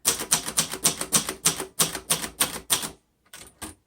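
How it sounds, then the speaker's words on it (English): Rapid keystrokes on a 1962 Royal Signet manual typewriter, about a dozen crisp mechanical clacks in a steady rhythm, close and loud, then a brief pause and a few more strikes. "each typewriter has its own feel to it"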